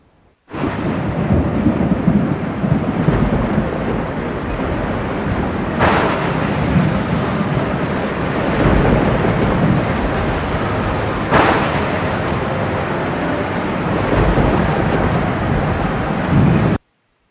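Heavy rain pouring steadily during monsoon floods in North India, with rolling thunder rumbling underneath and a couple of louder cracks partway through.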